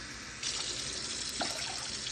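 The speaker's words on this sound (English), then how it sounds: "so I'm putting in 2 cups of water." Tap water running into a pot holding two cups of rice, a steady gushing pour that starts abruptly and continues close by, with a brief splashy change partway through, and no talking.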